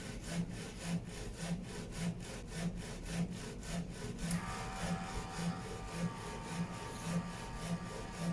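A Vega-Jet A3 DTG printer with an XP600 printhead prints white ink and then color ink on top. The carriage shuttles back and forth in even, rasping strokes about twice a second, joined midway by a steady motor whine, close and without speech.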